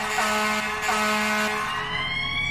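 Fire truck air horn in the emergency-response video game EmergeNYC, blaring loud, steady, brassy tones with a siren-like wail, close and continuous for a couple of seconds before the pitch shifts.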